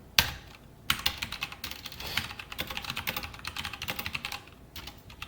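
Typing on a computer keyboard, a quick irregular run of close, crisp key clicks with brief pauses, no voices present.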